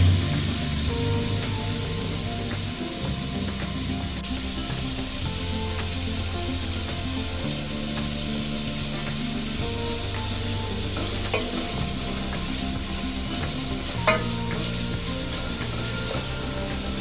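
Onions frying in hot oil in a pot for a beef yakhni pulao, giving a steady, loud sizzle with stirring scrapes that runs continuously with no talk.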